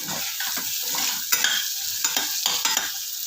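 Onion masala for a veg chicken gravy is stirred in a hot pan, with scraping strokes in a loose rhythm over a continuous close sizzle.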